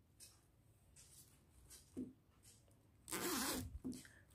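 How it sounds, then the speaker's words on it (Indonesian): Zipper on a handmade crochet bag being pulled, a few quiet short zips followed by one longer, louder rasping pull near the end, close and otherwise quiet. "Bagian penutupnya saya gunakan resleting seperti ini"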